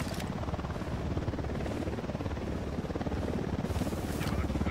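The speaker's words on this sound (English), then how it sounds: "Chopper, hit the dirt." A military helicopter in the video game Ghost Recon Wildlands thuds with a loud, steady rotor chop that stays close throughout, with a few brief higher sounds over it.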